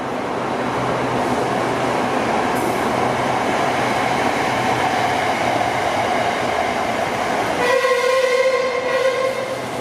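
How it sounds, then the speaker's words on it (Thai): A train on the elevated Red Line track near Bang Sue Grand Station in Bangkok rumbles steadily, loud and continuous, then a long horn blast sounds near the end. "นี่เป็นครั้งแรกนะครับที่ขึ้นวิ่งบนรางรถไฟฟ้าสายสีแดง ตรงทางยกระดับนะครับ"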